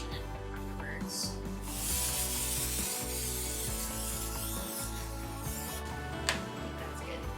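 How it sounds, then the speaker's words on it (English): Cooking spray hisses in short bursts while greasing a 12-cavity donut pan, the spray sounds sitting over a busy kitchen background. "Now we're going to grease our pan."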